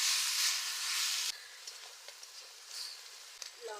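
Bele fish frying in a pan gives a loud, dense sizzle for just over a second, then drops to a softer, steady crackle with a few small pops.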